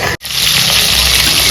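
Water pours onto sugar in a continuous loud gushing rush that begins after a brief break, close and unbroken, with no voices.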